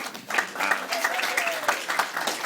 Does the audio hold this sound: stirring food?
no